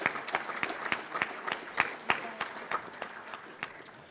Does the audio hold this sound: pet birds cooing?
no